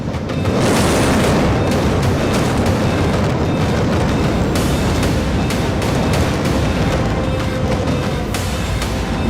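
Explosive demolition of twin tower buildings, with an initial blast burst followed by a long, loud, deep rolling rumble and crackling collapse that sustains for several seconds and fills the whole soundscape, no voices.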